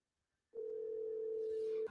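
A steady telephone dial tone starts abruptly after a brief silence and holds as a single clear, sustained hum while a phone number is called.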